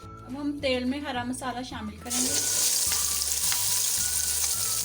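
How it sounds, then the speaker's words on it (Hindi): A voice talks over a low background for about two seconds, then green masala hits hot oil and a loud, broad sizzle takes over, steady and close for the rest. "अब हम तेल में हरा मसाला शामिल करेंगे।"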